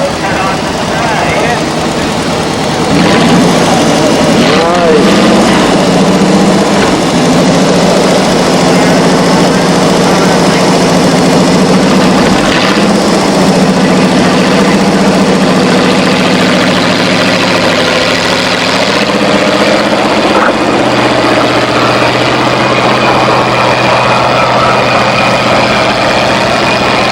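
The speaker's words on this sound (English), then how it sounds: "So Darryl made a full pull on his 1952 Ford 8M tractor." A 1952 Ford 8M tractor engine runs steadily and loud at an antique tractor pull, a continuous heavy low rumble with slight shifts in pitch throughout.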